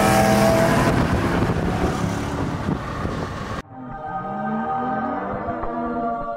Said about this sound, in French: qu'on fasse un petit un drag race, un petit 400 mètres, avec les 2 voitures